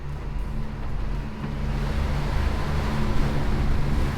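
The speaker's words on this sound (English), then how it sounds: "Sven had just turned on the engine" A sailboat's engine drones steadily at sea during an Atlantic crossing, a low constant hum under wind noise and rushing water, slowly growing a little louder, with no voices.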